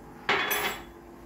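A single light metallic clink of a teaspoon adding citric acid to boiling peach jam, brief and close, followed by quiet.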